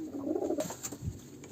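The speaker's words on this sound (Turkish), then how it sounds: "diğer damızlık kuşlarımızın olduğu bölüme geçeyim" Breeding pigeons or doves in an aviary give soft, low cooing calls, a few close murmuring coos over steady background hum.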